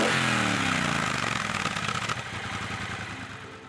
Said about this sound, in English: you have the same great sound from the stock exhaust.